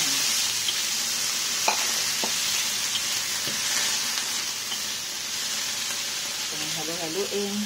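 Small fish, garlic and onion sizzle steadily in a pan with occasional scrapes and clinks of stirring, close and continuous, while someone talks intermittently in Tagalog.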